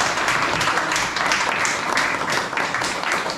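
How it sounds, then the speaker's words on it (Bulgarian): Audience applause for a presenter at a small spring book festival, steady close clapping from a modest crowd filling the whole stretch without a break. "аплодисменти за Тонко."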